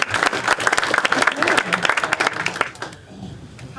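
Senior center audience at a Dating Game style play claps in a brief burst of applause, moderately loud and fading out near the end, with some voices mixed in.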